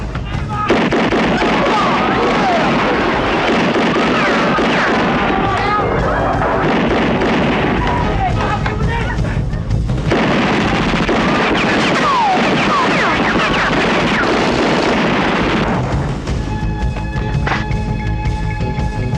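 Loud, dense firecracker explosions crackle and pop continuously, with sharp bursts overlapping throughout and voices talking underneath.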